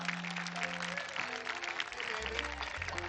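Crowd applause at an outdoor evening summer concert, a dense steady wash of clapping with a few sustained tones and voices mixed in.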